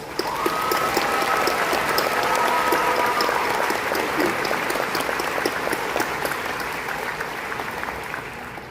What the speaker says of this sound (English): can you join me in giving a round of applause to Dr. Wallace?